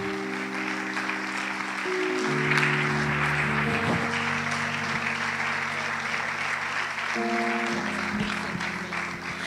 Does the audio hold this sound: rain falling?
no